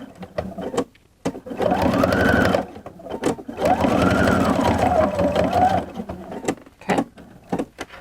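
A sewing machine stitches straight across the pleats of a shirt in two sustained whirring runs with a short pause between them, near and loud, bracketed by small clicks as the back stitching begins and ends.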